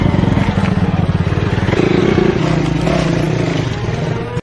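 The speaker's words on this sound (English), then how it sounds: "Motorcycles were the only way up the mountain." A loud motorcycle engine runs steadily with a rapid pulsing rumble that shifts pitch partway through, close and continuous throughout, as the motorcycle climbs a mountain during wildfire response in Chongqing.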